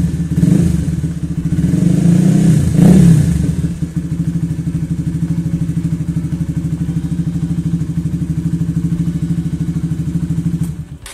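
A motorcycle engine is given light, gentle throttle blips, rising briefly twice before settling into a steady, smooth idle that chugs evenly close to the microphone, with no talk.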